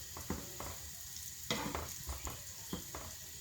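Cheese snack shallow frying in oil, soft sizzling with several sharper crackles and pops spread across the clip, close but quiet.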